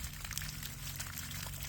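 Water flushes through a garden irrigation tube that runs along the tops of the bins, a steady low rushing and trickling flow that is quiet and continuous, with no voices.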